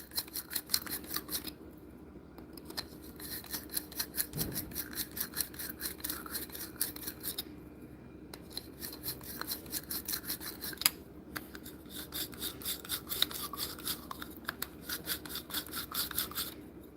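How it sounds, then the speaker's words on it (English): A ball cleaner brush scrubs inside a cut-down gel blaster barrel, giving fast, continuous rasping strokes with brief pauses between bursts, close and fairly loud. "Alright, now we use this ball cleaner."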